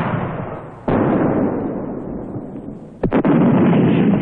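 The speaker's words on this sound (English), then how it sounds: "Once down, the guns are soon in action, responding to target information passed on by signalers in the battalion command post." Artillery guns firing in action during the Vietnam War, two heavy booms about two seconds apart rising out of continuous rumbling battlefield noise.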